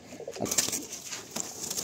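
Pigeons coo softly inside a loft, a layered background murmur broken by a few short rustling bursts, with no voices.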